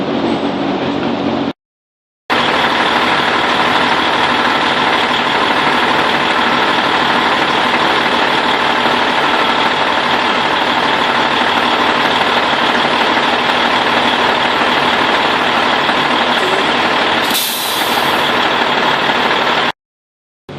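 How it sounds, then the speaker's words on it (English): A heavy truck engine idles steadily and loudly close by while its air brake system builds pressure. A short sharp hiss of air cuts in near the end, and no one speaks. "So I'm going to go ahead and start this up, let the pressure build up"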